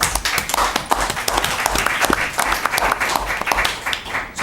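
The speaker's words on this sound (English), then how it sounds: "we should give them a round of applause" A crowd applauding steadily at a town board meeting, dense overlapping claps that stay loud and even throughout, with no voices over them.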